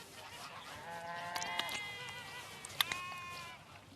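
Ducks and other poultry call out in a cluster of honking, bleating cries, some overlapping, with faint background noise between the louder squawks.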